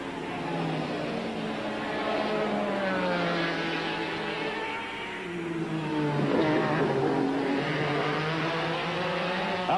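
Kudzu prototype race cars in IMSA Camel GTP racing at Lime Rock, 1992, roar past with engines revving and sweeping up and down in pitch as they pass, loud and continuous with no speech.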